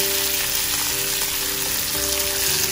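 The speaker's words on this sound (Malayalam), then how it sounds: "ഇനി അതിലോട്ട് വേപ്പിലിട്ട് കൊടുക്കാം." Curry leaves sizzle loudly in hot oil with fenugreek seeds while a Kerala-style raw mango curry is cooked, a dense continuous crackling fry close to the pan with no talking.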